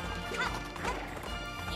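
Horse in the video game Princess Peach: Showtime, with soft clip-clop hoof sounds and a brief whinny-like cry over busy game music and effects.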